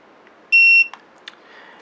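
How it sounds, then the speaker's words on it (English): A TST 507 tire pressure monitoring display gives a single sharp electronic beep as its set button is held, followed by a few faint clicks. "So you hold set again until it beeps."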